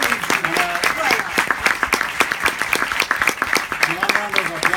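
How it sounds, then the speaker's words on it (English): Audience applause at a film Q&A with a director and a composer, a dense, sustained crowd clapping that fills the room throughout, with voices audible within it. "another round of applause"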